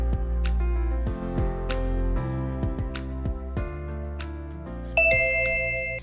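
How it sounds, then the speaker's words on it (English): A bright electronic chime rings out near the end, sounding over a steady bed of music with repeated percussive hits. "That's a bell, another bell"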